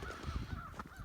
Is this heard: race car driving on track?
no